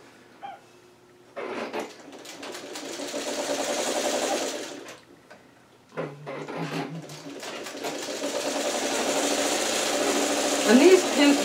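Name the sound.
sewing machine sewing quilt patches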